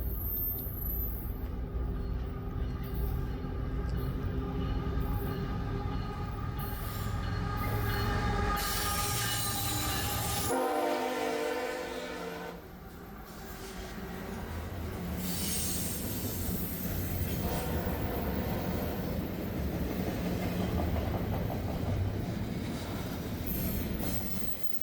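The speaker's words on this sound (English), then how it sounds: "It was a CSX train heading west," A westbound CSX freight train hauling loaded deep well cars rolls past at Harpers Ferry, West Virginia, with loud continuous wheel rumble, high metallic squealing and shifting clatter as the cars go by, no voices.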